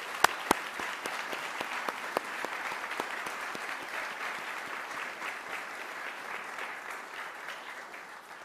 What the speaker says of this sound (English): Please join me in a round of applause for the United States Army Brass Quartet